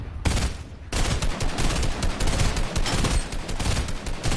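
Sustained gunfire in a multiplayer video game, a dense rattling stream of rapid shots after a brief opening burst and pause, loud and close with no talk.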